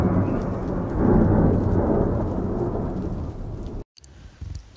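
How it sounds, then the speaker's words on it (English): Thunderstorm with heavy rain, a deep rolling rumble of thunder over a dense, steady wash of falling rain, loud and close, breaking briefly near the end. "Thunderstorm,"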